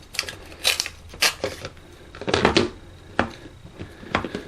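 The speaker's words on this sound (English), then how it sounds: "The negotiation between the printer and the palm takes about 20 seconds, and then the print is another 10 seconds or so." An infrared printer printing a shooting order, giving off a series of short mechanical bursts of whirring and clicking, six or seven irregular pulses close by, with quiet gaps between them.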